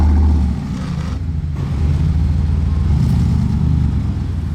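A Porsche 991 GT3 RS engine fires up and settles into a loud, deep, continuous rumble close by, with a brief dip in level just after the start before the engine holds steady.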